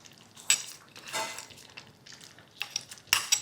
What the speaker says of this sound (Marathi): आता ही जी तुपाची चुरचुरीत फोडणी आपण तयार करून घेतली ही या खिचडीवर घालायची